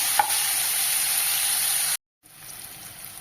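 Tomatoes sauté and are stirred in a pan while cooking drumstick kara kuzhambu, giving a steady close sizzle with a spatula scrape near the start, then a brief drop to silence and a quieter sizzle.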